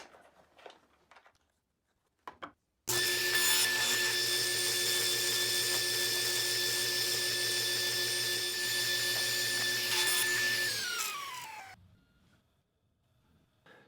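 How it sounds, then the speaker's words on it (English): A power saw cuts the tails off a spiral-cut wooden lazy Susan board made with walnut, running loud and steady for about eight seconds, with brief handling clatter before it starts and fading as it winds down. "we're going to cut off all these tails"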